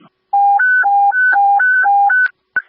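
Fire dispatch radio alert tones alternate between two pitches in a rapid, loud, regular sequence of about eight beeps, followed by a short click, with no voices.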